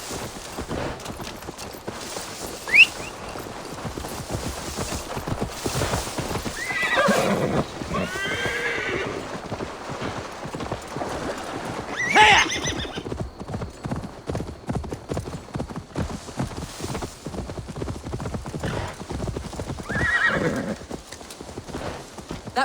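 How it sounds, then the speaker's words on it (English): Steady clip-clop of galloping hooves runs throughout, with a horse's whinny rising near the middle and again later, over a busy background from the video game Assassin's Creed Valhalla. "Now to deliver Magni his horse."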